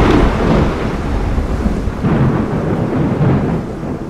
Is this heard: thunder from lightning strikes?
yes